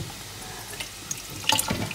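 Water runs steadily from a kitchen tap into a sink while lasagna sheets are drained, a soft continuous rush with a few brighter splashes near the end.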